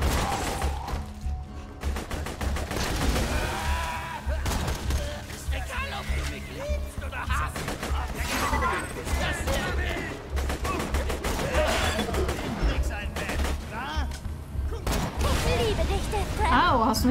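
Rapid gunfire and explosions from the video game Borderlands 2 crackle almost continuously, with heavy thuds between the shots, while players talk over the top throughout.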